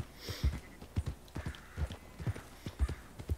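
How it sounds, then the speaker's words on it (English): Horse hooves clop in a steady, even rhythm in the video game Red Dead Redemption 2, close and fairly quiet, like a horse walking at a measured pace. "My horse just jumped for some reason"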